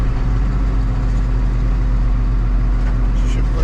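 A Massey Ferguson 6480 tractor engine runs steadily on a test drive, a loud, constant low diesel drone with a humming tone throughout and no break.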